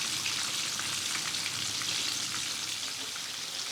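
Flour-coated chicken pieces fry in hot oil over a low-to-medium flame, giving a dense, steady crackling sizzle that stays loud and even from start to finish, with no voices.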